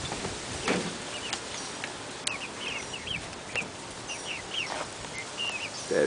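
Backyard hens, including Orpingtons and Americanas, clucking as their coop door is opened, a scattering of short calls over steady outdoor background noise.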